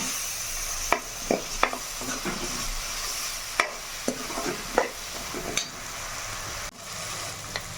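Chana dal fries in hot oil for a cabbage and chana dal mixed vegetable dish, a steady close sizzle broken by several sharp scraping stirs of the spoon in the pan, with no talking.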